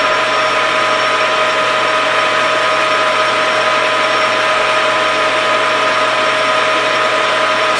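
A Grizzly lathe fitted with a 5C collet chuck faces a small workpiece to length in a single pass, giving a steady, loud mechanical whine and hum with no pauses and no voices.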